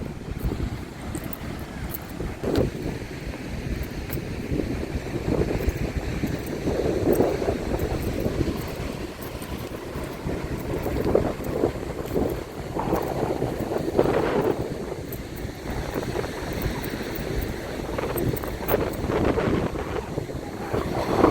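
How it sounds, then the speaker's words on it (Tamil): Sea waves at an eroded shoreline in Jaffna, a continuous rushing roar of surf with slow swells, mixed with heavy wind buffeting the microphone throughout, no voices. "கடல் கடல் அடிக்குது"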